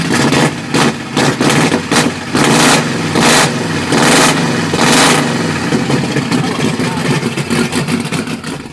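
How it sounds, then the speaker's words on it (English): A Monte Carlo car engine with an aftermarket exhaust idles with a deep, throaty exhaust rumble, broken by a series of sharp revs that rise and fall in quick bursts. "I didn't want the same bark on my car, so I went with a different exhaust."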